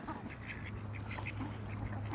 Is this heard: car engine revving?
no